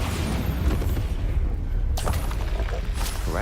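Bombarda spell explosion in the game Hogwarts Legacy, a loud booming blast with a dense rumbling low end and a sharp burst near the middle, heard without talking.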